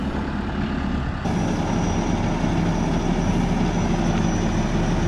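A truck hauls a 12-foot-wide trailer carrying a 40,000-gallon fertilizer tank, its engine and road noise a loud, steady rumble that swells sharply about a second in as it passes close by. No voices are heard.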